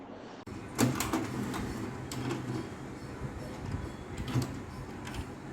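Plastic paper slot on an HP Ink Tank 319 printer being pulled open, with a sharp click and clatter early on and another near the end, over a low room background.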